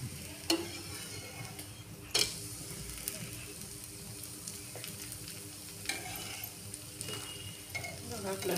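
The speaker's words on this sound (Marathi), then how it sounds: "बघा आपला डोसा किती छान भाजलाय" Green moong dosa roasting on a hot pan gives a steady, soft sizzle throughout, with a few brief clinks and scrapes breaking through.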